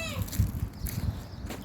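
A kitten gives a short, thin, high meow at the very start, fairly faint, followed by low rustling and background noise from the scene where three kittens were found.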